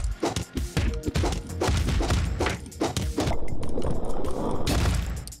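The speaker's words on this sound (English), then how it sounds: "Let's just use the pistol this time." Rapid pistol gunfire in the Streets of Rogue video game, a dense volley of loud close shots with crashing impacts, firing in quick bursts before a short lull and a final flurry.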